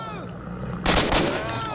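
Gunfire in S.T.A.L.K.E.R. Shadow of Chornobyl, Enhanced Edition: a loud burst of shots breaks out after a quieter stretch and continues as a dense, rattling volley to the end.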